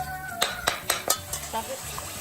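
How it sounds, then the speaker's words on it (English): A spoon stirs chili sauce in a hot pan, giving a quick run of sharp metallic clinks and scrapes over a soft sizzle that fades toward the end. "So you just got to really keep stirring, stirring, stirring."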